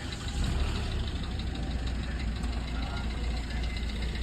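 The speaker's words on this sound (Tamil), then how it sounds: "நான் வண்டி ஸ்டார்ட் பண்ணுறேன்." A Hyundai i20 petrol engine, just repaired after a hydraulic lock, is started and settles into a steady idle, a continuous close rumble held at an even level throughout.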